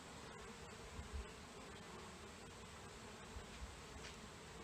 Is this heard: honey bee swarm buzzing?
yes